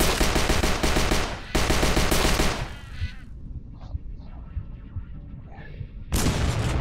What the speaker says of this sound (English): See, that's a shotgun.